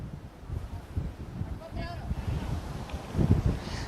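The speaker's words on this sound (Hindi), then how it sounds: "आप मुझे देखकर अंदाजा लगा सकते हैं कि यहाँ कितनी तेज हवा चल रही है" Strong stormy wind on Kakinada beach in Andhra Pradesh buffets the microphone in heavy, rumbling gusts, loud and uneven throughout, with a reporter's voice partly heard beneath it.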